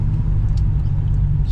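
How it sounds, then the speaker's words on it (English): Turbocharged car on Pro Street Radials with a turbo 265 engine at 13 psi boost, heard as a steady low rumble of engine and road noise from inside the car while driving. "Alrighty, out for a bit of a drive with the new Pro Street Radials on"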